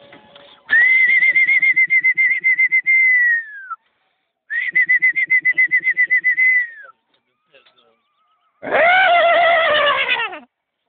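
Horses whinny loudly in a forest clearing, three long shrill neighs with descending pitch and shuddering vibrato, separated by short pauses, close and alone without talk.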